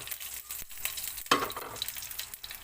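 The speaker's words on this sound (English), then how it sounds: "I'm putting 1 teaspoon of cumin seeds" One teaspoon of cumin seeds dropped into hot oil in a pan, a steady faint sizzle with a sharper hiss and crackle as they land, heard alone without talking.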